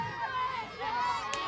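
Crowd murmur and scattered cheering at a PWR professional wrestling show in Sonipat, a steady hubbub filling the hall with no single voice standing out.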